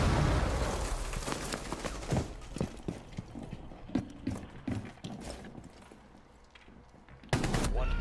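Gunfire in a Rainbow Six Siege ranked match: a run of sharp, close shots and short bursts, spaced irregularly, with a loud final crack near the end after a quieter stretch.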